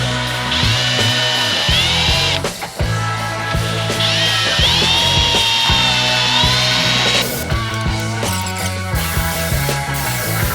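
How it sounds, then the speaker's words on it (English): A power drill bores a hole through a metal bracket for a 1992 Pontiac Firebird LS swap, two long loud whining bursts with a pause between, followed by steadier grinding and rattling. "So I need to drill this out, and then we're going to tap that to accept the bolt from the kit."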